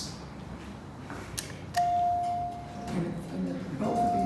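Elevator chime in a hospital employee parking garage, on Westinghouse cars later refitted by thyssenkrupp and modernized by Otis: a sustained electronic tone sounds once, then again after a short pause, over a faint hum of background noise.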